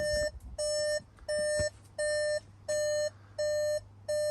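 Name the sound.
VW Transporter dashboard warning beeping with driver's door open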